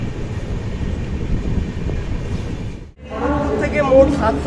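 Howrah–SMVT Bengaluru SF Express arriving at Visakhapatnam: a steady rolling-train rumble, a brief dip to near quiet, then station ambience returns with voices talking over it.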